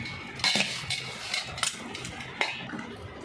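Rice being mixed with brinjal masala in a pot, a utensil scraping and clinking against the metal in a few sharp strikes over soft stirring, close and fairly quiet with no talk.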